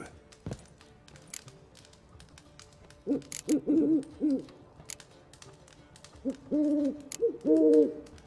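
An owl hoots in The Witcher 3, two clusters of close, clear hoots in a quick run of repeated notes, with faint taps and a quiet background before them.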